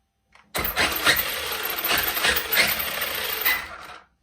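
A Traxxas Maxx RC truck converted to 6S power whirs into life with a sudden, dense electric motor buzz that holds steady for about three and a half seconds, then cuts out.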